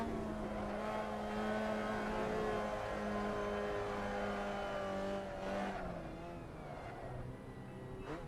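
A race car engine in a racing video game revs loudly and steadily, with a sustained high whine that shifts pitch as it climbs and drops through gears, joined briefly by a tire squeal near the end.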